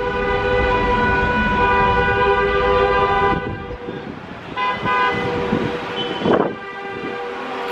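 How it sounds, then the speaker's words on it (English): Car horns blare in busy street traffic in Prizren, Kosovo: one long, loud sustained honk for about three seconds, then further overlapping honks and short toots against the rumble of the street. "This rate of honking reminds me of China."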